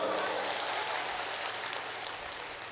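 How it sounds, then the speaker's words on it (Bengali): An audience at a talk applauds loudly, a dense, steady wash of clapping that holds for a few seconds and fades slightly toward the end. "ওর জন্য এটা করে তালি দাও জোরে।"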